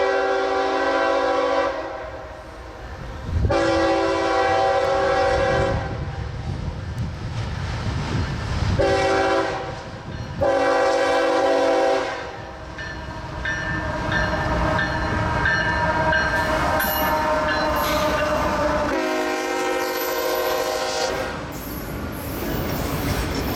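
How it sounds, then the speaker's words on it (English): An eastbound CSX freight train passing the old B&O depot at Fostoria, with several long, loud horn blasts in a sequence, then the steady rumble and squeal of wheels and cars rolling by close to the listener. "Moving over to the parking lot of the old B&O depot, we set up for another eastbound train."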